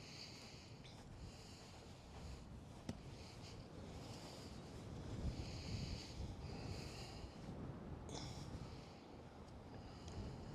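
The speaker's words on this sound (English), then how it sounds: "And that wind is strong" Strong wind gusts across an open golf course, a low rumbling buffet on the microphone that swells and eases over about ten seconds, fairly quiet overall with no talking.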